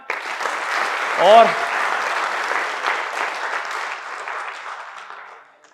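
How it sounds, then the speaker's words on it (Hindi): An audience at a career-counselling seminar breaks into loud, sustained applause that slowly fades toward the end, with a brief spoken word near the start and a short vocal whoop partway through. "तो आप सभी के लिए जोरदार तालियां।"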